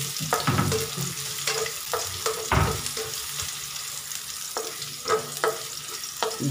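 Garlic sizzles and spatters in hot cooking oil in a pan while being stirred, a close, continuous frying crackle with scraping stir strokes throughout, no talk.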